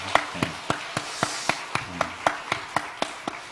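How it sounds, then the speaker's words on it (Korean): A church congregation claps in unison for the children at a Korean worship service, about fourteen sharp, evenly spaced claps in a steady rhythm, fairly close and distinct over a quiet room. "우리 이 어린 자녀들 위해서 박수 한번 쳐주셨으면 좋겠습니다"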